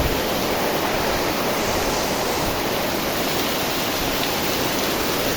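Heavy rain and wind mix with rushing flood water in a loud, dense, constant roar of pouring water with no pauses and no voices.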